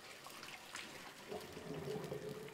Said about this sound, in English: And now we'll empty most of our water.